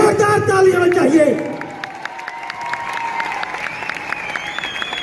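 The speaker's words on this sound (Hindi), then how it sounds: "जोरदार ताली होनी चाहिए" Applause at a ceremony, a loud burst of dense clapping mixed with a voice at the start that then settles into steady clapping, with crowd noise carrying on underneath.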